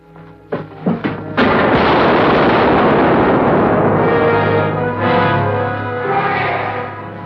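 A dynamite blast in an old Wild West hideout erupts as a massive roaring boom after a couple of sharp cracks, then sustains a long, loud rumbling wash of debris that slowly settles.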